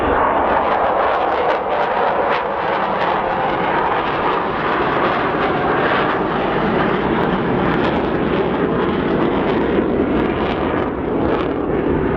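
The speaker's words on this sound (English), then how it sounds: "The one and only Avro Vulcan." An Avro Vulcan jet bomber flying at the Scottish Airshow 2015, a loud, continuous engine roar with a broad rumbling howl that holds steady throughout, heavy and near, with no talking over it.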